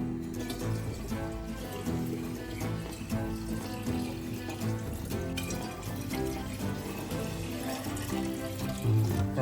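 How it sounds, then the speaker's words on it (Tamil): Water pours steadily into a pot during a Pongal celebration, a continuous splashing wash beneath busy festive background noise and music-like tones. "ஊற்றி வரும் தண்ணி வரும்."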